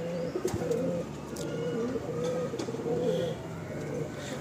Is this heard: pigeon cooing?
yes